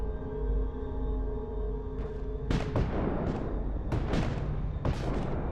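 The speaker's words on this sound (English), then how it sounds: "Gunfire? Sounds like it was coming from the German trench." Distant gunfire from a German trench in a foggy Minecraft battlefield: several sharp, booming shots come in irregular bursts over a steady low rumble, with no talking.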